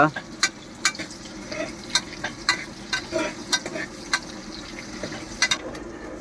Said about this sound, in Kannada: ಈರುಳ್ಳಿ ಮೆಣಸಿನ್ಕಾಯಿ ಬೆಳ್ಳುಳ್ಳಿ ಎಲ್ಲ ಹಾಕ್ಬಿಟ್ಟು ರೋಸ್ಟ್ ಮಾಡ್ತಾ ಇದ್ದಾನೆ ನಮ್ಮ ರಾಜ